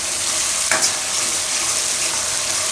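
Gravy cooks in oil in a pan with a loud, steady, close sizzle and a brief stirring scrape partway through.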